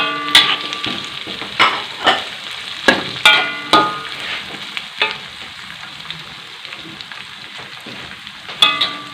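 Lemongrass, galangal and lime leaves sizzle in hot oil in a pan while cooking fish pindang tumis, with a steady crackling hiss broken by sharp, irregular spitting pops, fairly close and with no voices.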